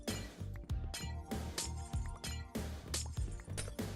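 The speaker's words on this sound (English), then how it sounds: "Is the glass breaking sound better now for you guys?" Glass blocks shattering in the video game Minecraft, a run of sharp crashing breaks landing every half second or so over steady background music, fairly quiet overall.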